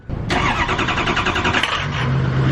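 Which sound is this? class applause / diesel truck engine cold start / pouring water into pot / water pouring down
diesel truck engine cold start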